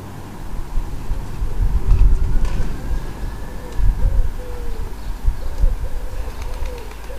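Wood pigeons coo softly and repeatedly in a steady, low rhythm outdoors, half buried under a constant rumbling background noise.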